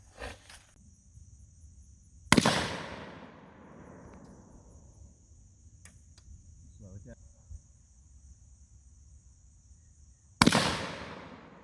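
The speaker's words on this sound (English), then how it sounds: "we'll go down and we'll shoot at some of these pasties" Pistol shots during target shooting practice. Two sharp, loud reports about eight seconds apart, each trailing into a long outdoor echo, with quiet ambience and a steady insect-like whine in between.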